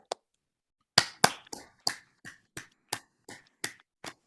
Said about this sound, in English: Can we all acknowledge Betty with a round of applause as we transition?